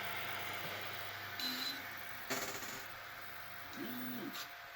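Small 3D printer homing its axes: quiet stepper motor whines with short rising and falling tones and a couple of brief clicks over a low steady hum.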